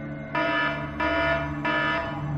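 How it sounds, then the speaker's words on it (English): A loud emergency alarm system blares in three sustained, evenly spaced blasts, each a bright electronic tone over a steady low hum. "Kenny suggests sneaking through the back to set off the loud emergency alarm system."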